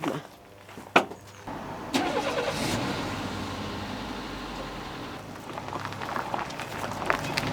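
A car engine turns over and catches with a sharp onset, then settles into a steady idle close by, with a few faint knocks and movements toward the end.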